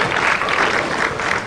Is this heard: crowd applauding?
yes